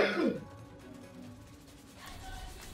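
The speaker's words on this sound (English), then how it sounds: "That was a powerful cough." A single sharp cough or throat clearing comes from a player during an online Overwatch session, brief and fairly close, followed by quiet background sound.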